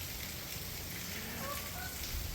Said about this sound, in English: as you can see, it is pouring rain out there